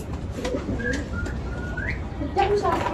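Pigeons coo and call in a rooftop pigeon loft, soft warbling notes and a few whistly chirps over steady background noise, with a voice talking briefly nearby.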